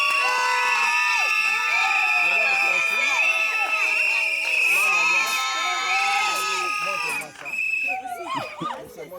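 Wedding guests at a customary Congolese wedding cheer, whoop and shout loudly right after a ring exchange, a dense crowd roar with high-pitched cries and voices throughout, easing off near the end.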